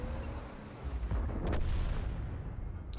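A heavy tank cannon fires in World of Tanks, a Jagdtiger tank destroyer battle: one deep booming shot with a rumbling tail that fades out, heard alone without speech.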